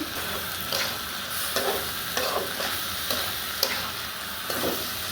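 Boiled chickpea lentils frying with cumin powder, chili powder and salt, stirred in a pan: a continuous close sizzle broken by repeated rhythmic scrapes of the spoon, with no talking.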